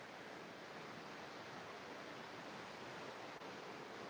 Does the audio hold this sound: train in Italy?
no